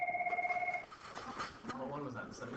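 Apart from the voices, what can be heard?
telephone ringing during a call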